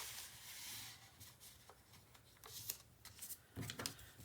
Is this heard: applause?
no